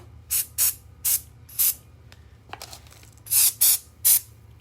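Several short bursts of spray hit a denim fabric apron up close, four quick hisses, a brief pause, then three more, with no talking.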